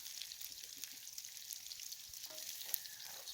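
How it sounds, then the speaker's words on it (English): Jalapeno frying with kangaroo meat in a pan for a roo stew, a soft steady sizzle with light crackles and a stir or two, quiet and close, no voices. "So I'll give that a fry up with the meat."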